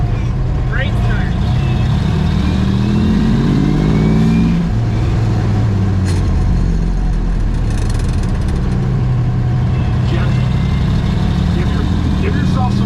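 A Brockway truck's engine revs loudly and steadily as the heavy truck pulls away, its low rumble rising in pitch through the first few seconds and holding close and continuous throughout.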